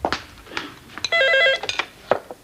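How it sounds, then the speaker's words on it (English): A car phone rings in a quick electronic trill, one burst of about half a second, close and clear between short bursts of nearby movement and clatter. "So when did Uncle Jeff get the car phone?"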